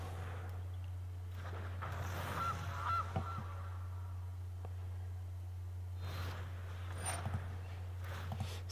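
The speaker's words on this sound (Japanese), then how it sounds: "はい、ガチョウ。" Goose honks from the digital card game MTG Arena, a few short nasal calls scattered across a quiet stretch over a steady low electrical hum, with no speech.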